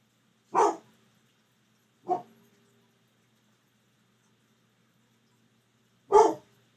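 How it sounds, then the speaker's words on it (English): A dog barks indoors three times, sharp single barks spaced a couple of seconds apart and then a longer pause, close and clear against near silence. "Bella, bark for big candles, baby"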